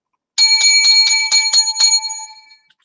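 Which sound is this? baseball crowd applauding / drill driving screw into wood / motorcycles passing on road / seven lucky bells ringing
seven lucky bells ringing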